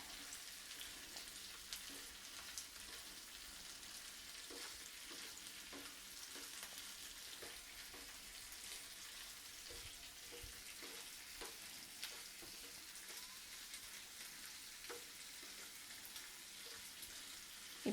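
Okra and shallots sautéing in a pan for a South Indian tamarind curry, giving a steady, soft sizzle with faint scraping stirs throughout, no voices.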